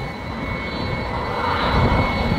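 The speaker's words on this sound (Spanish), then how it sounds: "Mirá cómo viene ahí el avioncito." A propeller airplane roars low overhead near an airport in Guayaquil, loud and close, its engine drone swelling as it passes, with no talk over it.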